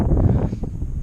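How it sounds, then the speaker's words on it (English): Heavy wind buffeting the microphone outdoors at an old park while metal detecting, a constant low rumble and roar with gusty fluctuations throughout. "Sorry about the wind, but there ain't a whole lot I can do about it."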